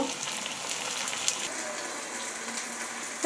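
Onions browning in a pan with a spoonful of ginger garlic paste, a steady close sizzle and hiss running throughout without pause.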